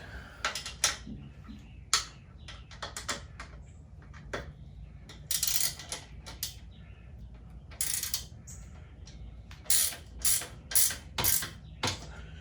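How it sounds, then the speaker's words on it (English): A built-in ratchet wrench tightens bolts on a compact 3DOF motion simulator, giving bursts of sharp, rapid clicks with short pauses between turns, close and crisp, and no talking. "I do kind of like these wrenches that they built in. There's a built-in ratchet on them."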